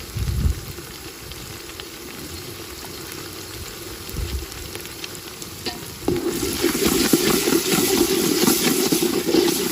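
Onions frying in a pan with turmeric for a Nellore-style fish curry, a steady close sizzle that swells louder and denser partway through, with occasional stirring scrapes and no talking.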